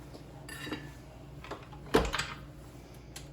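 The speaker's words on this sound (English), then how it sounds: "Scraping down again, getting underneath." A spatula scraping down the sides of a bowl of cheesecake batter in a stand mixer, a few soft scrapes and clinks with one sharper knock near the middle, close and fairly quiet.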